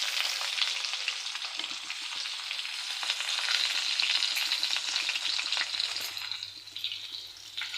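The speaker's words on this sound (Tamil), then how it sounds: "இப்போது நம்ம நறுக்கி வச்ச வெங்காயத்தையும் அதில் போட்டுக்கலாம்." Chopped onions sizzling and frying steadily in a hot pan over lowered heat while making dried fish curry, a continuous close crackle with occasional stirring and light water sounds, no voices.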